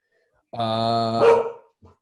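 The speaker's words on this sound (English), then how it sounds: "Oh, sorry, my dog's being an idiot." A dog lets out a single long, loud bark close by, with a short faint yip right after it, against a silent indoor background.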